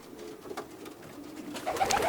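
Racing pigeons of Husky Van Reel bloodline coo softly inside a loft, low throaty murmurs faint against quiet room noise, with a slightly louder burst near the end.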